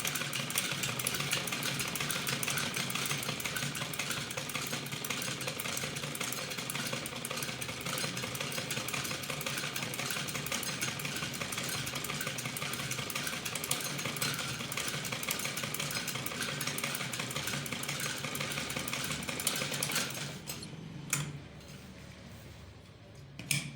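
A sewing machine stitching piping onto a ladies' kameez, running as a continuous close mechanical whir and rattle for about twenty seconds before it stops, with no talking.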